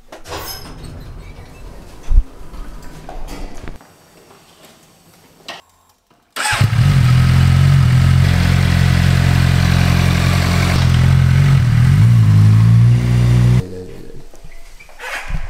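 A motorcycle engine catches after an indoor rattle and a brief silence, then holds a loud, steady drone that rises in pitch as it is revved before cutting back to quieter handling noise.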